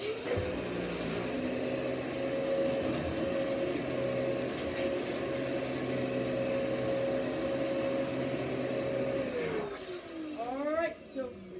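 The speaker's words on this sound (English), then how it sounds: "Alright, Dyson DC-14." A Dyson DC-14 vacuum cleaner runs with a loud, steady motor whine that holds level for several seconds before winding down near the end.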